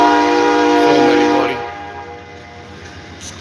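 A loud train horn blares, then cuts off, leaving the low rumble of a passing train with a brief spoken remark over it.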